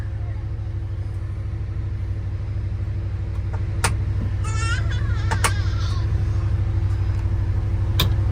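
A Can-Am Defender UTV creeps slowly down a trail hill, its steady low engine rumble constant throughout, with a few faint squeaks and clicks near the middle and end.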